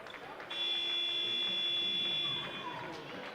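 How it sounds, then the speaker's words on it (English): A steady electronic buzzer sounds for about two seconds over crowd noise in a gym, then cuts off as the background chatter continues. "The shot clock actually went off, and I think the buzzer went off from the table."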